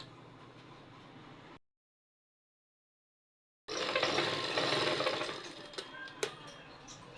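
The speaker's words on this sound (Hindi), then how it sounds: "यहाँ से 1/2 इंच दबाते हुए सिलाई लगाएंगे" A sewing machine runs steadily while stitching a tucked blouse seam pressed half an inch, stopping briefly, then resuming in a louder, denser burst of close mechanical whirring.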